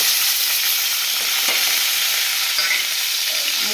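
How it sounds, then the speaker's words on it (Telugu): Eggplant pieces fry in a hot pan for a Telugu-style dish, giving a loud, steady sizzle close by with occasional soft scrapes and clicks as they are stirred. "ఈ వంకాయలని కూడా ఇప్పుడు వేసేద్దాం."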